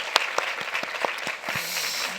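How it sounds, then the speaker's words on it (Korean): A church congregation at a service breaks into brief applause, with scattered distinct claps over a rising wash of clapping, fairly close and loud, and a voice briefly audible near the end. "한번 크게 박수 한번 드리겠습니다."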